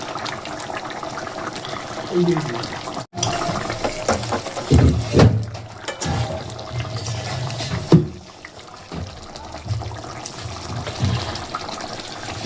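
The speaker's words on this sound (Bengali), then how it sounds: "এই সময় দিয়ে দিতে হবে সর্ষের তেল একটু বেশি করে" Mustard oil is poured into a simmering Hilsa fish curry, giving a liquid splash and bubbling sizzle mixed with clattering, while a voice talks over the cooking in the foreground.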